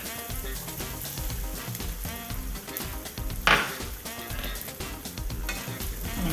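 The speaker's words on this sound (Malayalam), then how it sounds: "നമുക്കിതിലേക്ക് നമ്മൾ ബീറ്റ് ചെയ്ത് വെച്ചിട്ടുള്ള ഒരു എഗ്ഗ് ചേർത്ത് കൊടുക്കാം" Beaten egg sizzles and spits in a hot pan among kothu porotta, a steady loud frying hiss with scraping stirs and a sharp burst of crackle midway.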